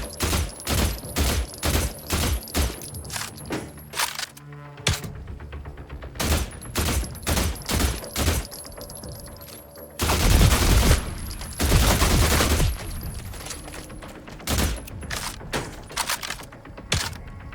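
Flaming-ammo gunfire in The Last Caretaker, heard as rapid, loud bursts of shots in quick rhythmic groups, with a denser, heavier barrage in the middle.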